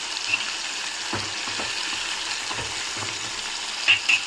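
Green chillies and tamarind fry in a pan for a coriander chutney, a faint steady sizzle with a few soft scraping stirs and small clicks, quiet and close.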